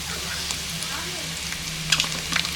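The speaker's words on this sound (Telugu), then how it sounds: "అల్లం వెల్లుల్లి పేస్ట్ అయితే వేగింది" Ginger garlic paste frying in a pan for a village-style snail curry, a steady soft sizzle with a few clinks of stirring near the end.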